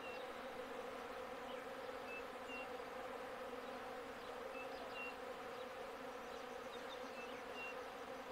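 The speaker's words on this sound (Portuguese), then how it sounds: "E as abelhas estão fazendo a verdadeira festa" Dense swarm of bees working jurema preta blossoms in the sertão, a steady, continuous buzzing drone with faint higher insect whines drifting through, no voices.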